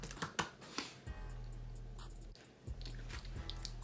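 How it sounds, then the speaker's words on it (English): Wet, soft chewing of a Bean Boozled jelly bean, close up, with quick rhythmic mouth sounds over a low background hum. "Because she kept on chewing"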